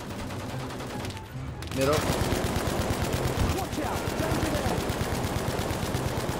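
Machine gun fire in an Xbox One Battlefield match, a steady, rapid stream of loud close shots that starts after a short lull and keeps going, with a player's voice speaking over it.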